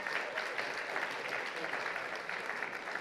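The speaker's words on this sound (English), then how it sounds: "Give all the candidates a round of applause." Audience at a Nashville mayoral forum on housing claps for the candidates, a moderately loud, steady spread of handclaps filling about three seconds.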